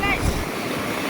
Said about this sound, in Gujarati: ફૂલ મોજા પાણીના આવે